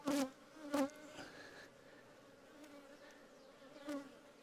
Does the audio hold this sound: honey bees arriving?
yes